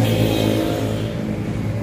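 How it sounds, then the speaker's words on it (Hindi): Steady road traffic roars close by beside a parked Mahindra 575 tractor, a continuous loud engine rumble with no pauses and no voices over it. "काफ़ी शोर हो रहा है यहाँ सड़क पर खड़े हैं"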